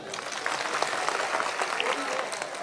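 An audience at a spiritual discourse gathering claps steadily, a dense, even patter of many hands that holds through the whole stretch at moderate distance, with a voice speaking faintly underneath.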